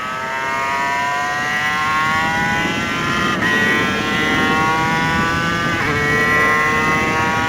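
A Suzuki RGV250 two-stroke motorcycle screams around a track, heard from the rider's position, its high buzzing engine rising in pitch and dropping at each gear change, loud and continuous.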